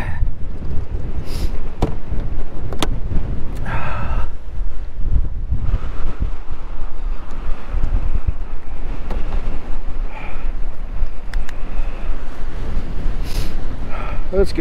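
Blustery cold wind buffets the microphone during an outdoor bike ride at Fort Smallwood Park, a constant low roar and rumble throughout, with scattered faint voice sounds.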